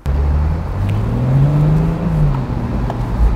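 A new car's engine and exhaust roar steadily, with a rising and falling rev tone, close and loud, no talking.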